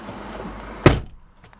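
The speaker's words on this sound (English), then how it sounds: "even if I open the door and close it." A Jeep car door shuts with a single solid thunk near the middle, preceded by faint handling noise and followed by a brief rattle and near silence.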